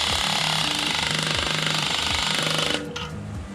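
A power tool drives down the spring plate of a CHE trunnion kit with TSP dual springs, making a loud, continuous rattling hammer-like whir with a steady pulsing beat that cuts off abruptly near the end.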